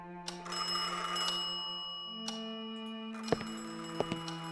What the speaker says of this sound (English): I don't understand why is this phone ringing.